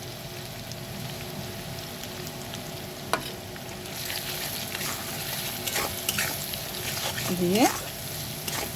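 Onion, ginger, garlic and green chili sizzling in a pan with turmeric and salt, a steady frying hiss with stirring scrapes, while someone talks over it.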